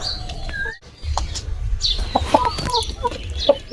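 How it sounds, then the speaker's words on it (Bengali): Village chickens in the Sundarbans cluck and chatter while paddy grain is scattered for them, with repeated short clucks and a few higher calls close by, and no voices. "ধান নিয়ে নিলাম মুরগিদের খেতে দেবো চলো"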